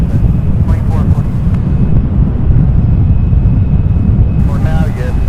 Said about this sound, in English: engage super zoom from this point so I can zoom in on the aircraft taking off from 35 left